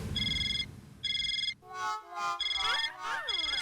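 A telephone ringtone rings indoors in a home at night, two bright electronic bursts followed by further rings that overlap with a swooping musical tone and other household sound.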